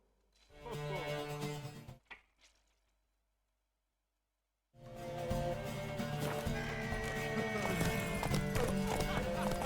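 Horse hooves clip-clop at a gallop under game music and effects in The Witcher 3: Wild Hunt, with a short silent gap before the galloping resumes loudly.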